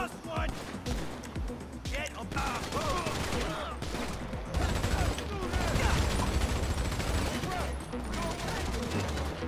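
Rapid bursts of gunfire in a Grand Theft Auto gang war, crackling through a dense, busy game mix while players talk over it throughout.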